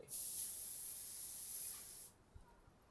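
An airbrush sprays pink paint in a single steady hiss lasting about two seconds, then cuts off abruptly, leaving near silence with a faint soft knock.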